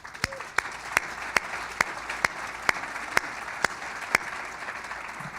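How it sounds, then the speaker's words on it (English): Audience applause at a school event: a soft bed of scattered clapping with a string of about a dozen sharp, louder claps landing at a steady beat close by. "Best applause line ever."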